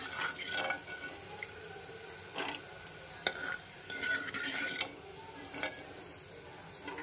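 Peanuts fry in hot oil in a pan, giving a quiet, continuous crackling sizzle broken by occasional clicks and stirring knocks, with no speech.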